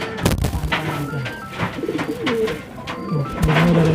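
Bandangan pigeons coo repeatedly outdoors, with soft, throaty calls that overlap, alongside fluttering and scattered thumps and other bird sounds nearby.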